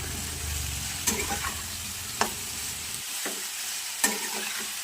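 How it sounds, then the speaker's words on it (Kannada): Cauliflower and potato sizzle and fry in a pan without water, with a soft crackle broken by a few sharp scrapes of stirring at irregular intervals. "ಇದಕ್ಕೆ ನೀರು ಸೇರಿಸೋದು ಬೇಡ ನೀರು ಸೇರಿಸದೆ ಇದನ್ನು ಫ್ರೈ ಮಾಡಬೇಕು"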